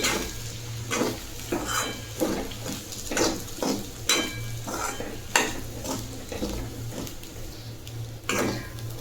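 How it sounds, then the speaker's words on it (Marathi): Soaked sabudana khichdi with crushed roasted peanuts and salt being stirred in a pan, repeated scraping strokes at an uneven rhythm over a low steady hum, close and clear. "यामध्ये आता भाजलेलं शेंगदाण्याचं कूट चवीपुरतं मीठ आणि हे व्यवस्थित परतून घेऊ"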